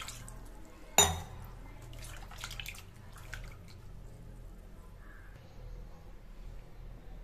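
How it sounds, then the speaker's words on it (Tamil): Water is poured over raw mutton pieces in a home kitchen, starting with a sharp splash and clink followed by softer trickling and dripping that fades into quiet background. "கொஞ்சம் தண்ணி ஊற்றி கறியை ஒரு டைம் கழுவிக்கலாம்."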